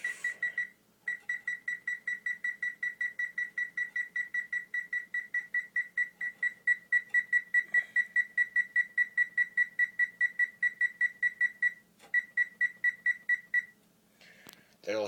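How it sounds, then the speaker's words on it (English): A kitchen oven timer beeps in a fast, steady string of sharp, high electronic pulses for about fourteen seconds, with brief gaps near the start and toward the end. "Timer, we're going to set it"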